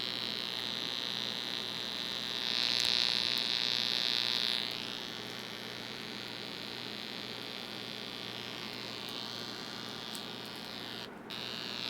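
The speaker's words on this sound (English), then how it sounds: "you hear all that buzzing and commotion" A faulty Christmas light string on a zap box buzzes and crackles with a continuous electrical hum, swelling into a louder, harsher whine for about two seconds before settling back to a steady drone.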